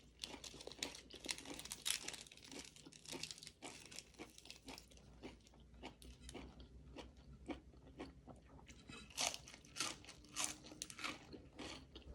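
Close, steady crunching and crackling from chewing crispy food, with rapid brittle bites repeating throughout at a soft overall level and no talking.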